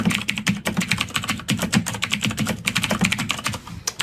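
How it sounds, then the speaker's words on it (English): Fast, close keystrokes on a computer keyboard clatter steadily for several seconds as a song lyric is typed into a C# programming string. "I'm going to type in a lyric from a song that I like."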